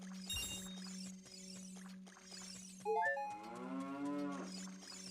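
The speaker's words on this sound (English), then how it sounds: "that's a cow." A cow in the video game Ocarina of Time lets out a single drawn-out moo, loud and close over a steady electronic hum and game sounds.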